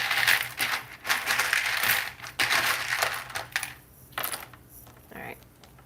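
Tarot cards being shuffled by hand, several crisp riffling and slapping bursts in quick succession, close and moderately loud, fading to lighter flicks near the end.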